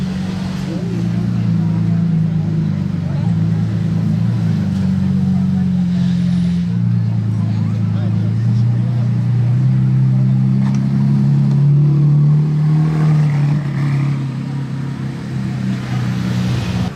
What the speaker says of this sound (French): On va avoir un peu de mouvement avec cette SVJ.